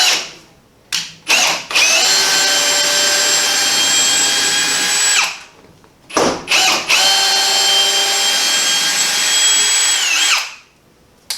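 A power drill fitted with an extension backs bolts out of a pellet stove in tight spots, two long, loud whining runs of several seconds each, separated by short clicks and pauses.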